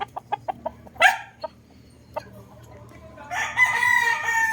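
A Boston Roundhead gamefowl rooster, a broodcock for the breeding season, gives a string of short clucks and then a loud, drawn-out crow, heard close with little else around.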